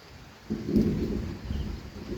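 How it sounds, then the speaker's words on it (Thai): Thunder rumbles on a rainy morning, a deep low roll that swells suddenly and lingers for over a second, moderately loud and somewhat distant over a steady hiss of rain. "ได้ยินเสียงฟ้าร้องไหมครับ"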